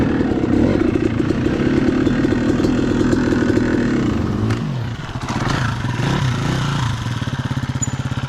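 A four-stroke dirt bike runs on the Enoree Cycle Trail OHV. Its engine holds a loud, steady near drone, dips briefly midway and then picks back up to a rough, pulsing idle, with no voices.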